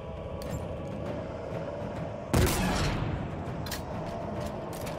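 Gunfire in the Halo Infinite video game: a sudden loud burst of shots partway through that decays into a ringing tail, set over a steady low rumble of game ambience with a few fainter scattered cracks.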